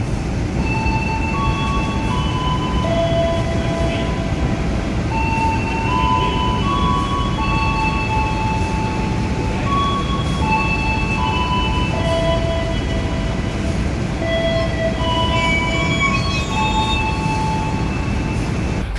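The Jayakarta train stands at Pasar Senen station before departure, a loud steady rumble of engine and carriages with scattered high tonal squeals and beeps running throughout.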